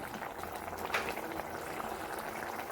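Fish curry bubbling in a clay pot on a gas stove, a steady close simmering hiss and crackle of boiling liquid with no break throughout.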